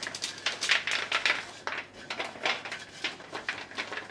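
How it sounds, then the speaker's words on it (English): Nuts are spread across a baking pan, giving a quick run of light rattling, clicking taps as they scatter and settle on the metal, fairly close and with no voice over them. "And now we're just going to spread the nuts out over the pan."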